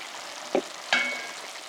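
Garlic sizzles softly in meat juices in a pan for a spaghetti meat sauce, with a steady faint frying hiss and two brief louder spits or stirring scrapes.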